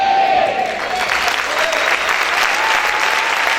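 A church congregation applauding loudly, a dense, sustained wash of clapping from many hands filling the room with no let-up.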